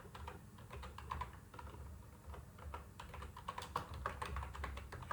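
Quick, irregular keystrokes on a computer keyboard while code is typed, soft close clicking in uneven bursts over a faint room hum.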